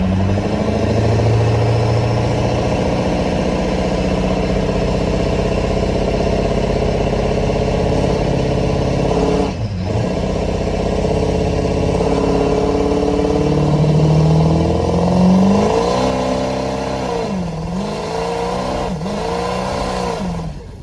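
A diesel four-wheel-drive truck running 40 psi of boost launches in a loud, sustained roar, its engine note sweeping up and down through gear changes and revving near the listener for about twenty seconds with no talk.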